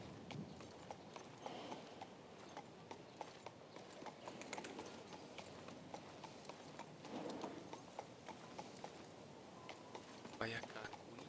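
Horse hooves clip-clop at a steady galloping rhythm in the video game King's Bounty II, close and continuous, with someone talking over much of it and faint bird chirps in the background.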